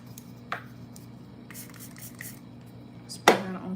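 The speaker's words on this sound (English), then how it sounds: "Spray that all throughout." A few short spritzes from a Rare Beauty makeup setting spray bottle, then one louder, closer burst of fine mist near the end; no talking.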